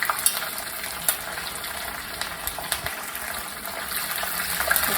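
Green chilies sautéing in oil in a pan for rava upma, a steady close sizzle and crackle with faint stirring scrapes, no voices.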